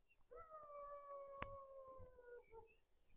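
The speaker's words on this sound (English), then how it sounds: "I think that's a dog, but it sounds quite wolfish." A dog howling with a wolfish tone, a single sustained wavering howl with a bending pitch, heard at a distance and fairly faint over quiet outdoor ambience.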